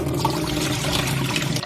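Water sloshes and swirls around rice grains being washed in a bowl for Ghana jollof, a close, continuous wet churning that cuts off sharply at the end.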